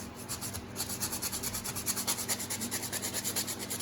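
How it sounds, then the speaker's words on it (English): A pine wood fishing lure is sanded by hand in steady back-and-forth strokes, a rhythmic close rasping repeated about three times a second with no talking. "I just hate how long this pine takes to sand out"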